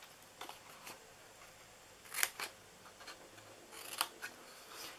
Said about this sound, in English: You're gonna cut that little corner off. And I'm gonna cut that in.